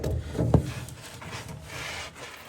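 A wooden board scrapes and rubs as it is dragged aside near a John Deere 47-inch snowblower auger, with one sharp knock early on, then a softer sliding rasp.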